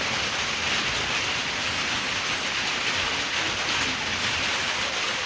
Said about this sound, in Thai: อันนี้ก็ฝนก็เริ่มจะตกนะทุกคน